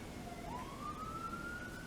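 An emergency siren from a nearby fire and police station sounds far off, a single faint wail that rises and holds under a steady background hum.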